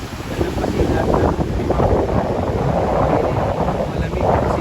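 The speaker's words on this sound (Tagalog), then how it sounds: "malamig kasi may ng hangin" Strong wind buffeting the microphone at Patar beach in Bolinao, a loud continuous roar and rumble with surf-like wash, steady throughout with no break.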